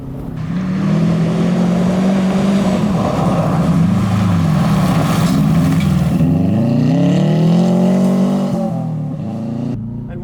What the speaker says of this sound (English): Brake hard, ease off the brakes as I turn, then downshift, and I'm gone.